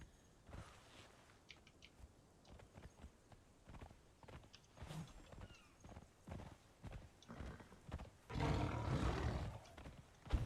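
A horse's hooves clip-clop irregularly in Conan Exiles, soft thuds from close by, followed near the end by a loud burst of rough, roaring noise.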